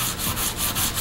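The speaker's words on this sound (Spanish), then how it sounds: "con el taquito de madera vamos a comenzar a lijar todo lo largo o toda la superficie de nuestro lije" Jewelry piece sanded by hand with a small wooden sanding block, a few quick rhythmic rasping back-and-forth strokes, close and moderately loud with no talking.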